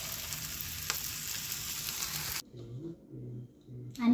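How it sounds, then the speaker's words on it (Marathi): Bombay duck (bombil) fish sizzles steadily as it fries in a pan, a dense crackling hiss that cuts out abruptly partway through, leaving quieter low bubbling before the sizzle returns loudly at the end. "इकडे मस्त असे बोंबील फ्राय होतात आहेत"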